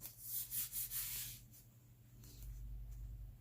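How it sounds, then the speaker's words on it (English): A stencil swiped a few times across a tacky towel gives soft rhythmic rubbing swishes, close and faint, followed by a quieter scuff. "I'm going to give it a couple of swipes on my tacky towel"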